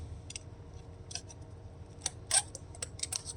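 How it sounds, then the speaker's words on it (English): Scissors cut a very thin strip of copper sheet for shielding a Telecaster-style guitar body, giving several crisp, sharp snips spaced irregularly over a quiet background, the loudest snip near the end, with no talk. "So I will take a pair of scissors"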